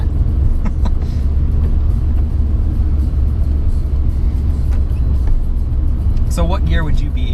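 Inside a VW Bug with a manual gearbox, the engine drones as a loud, steady low rumble while driving, and voices talk over it near the end.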